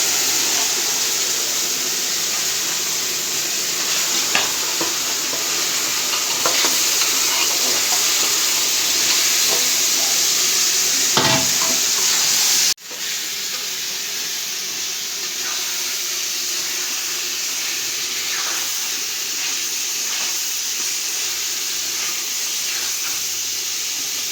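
Rita river fish frying in oil with cooked-down spice paste, a steady broadband sizzle and hiss held for the whole stretch, with scattered stirring scrapes and a brief louder burst before it settles back to an even sizzle.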